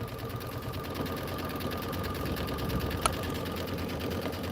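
An embroidery sewing machine runs a quilting stitch on a hooped filler block, its needle pounding in a fast, even rhythm with a steady motor whir and one sharp click partway through.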